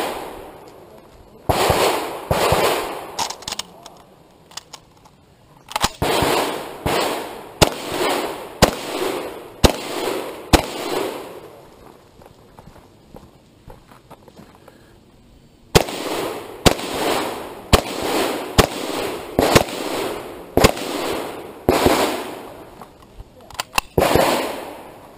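Target shooting at Sanners Lake, loud sharp gunshots fired in quick irregular strings with two pauses for reloading, close to the microphone with no talk over them.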